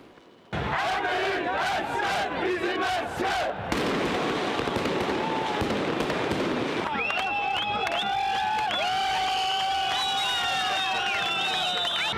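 Fireworks bang and crackle over a loud, chanting crowd during a night street celebration in Baku, the bursts dense through the first half before shouting voices and whistles dominate.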